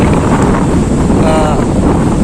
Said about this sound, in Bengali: দেখো প্রচুর বাতাসও হচ্ছে